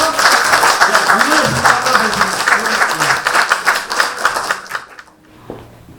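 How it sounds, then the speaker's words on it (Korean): Audience applause welcoming a speaker, essayist Bae Young-hee, at an after-work humanities lecture, sustained dense clapping for about five seconds with voices mixed in, then stopping abruptly into near quiet. "우리 배영희 원장님께 큰 박수로 맞이하면서"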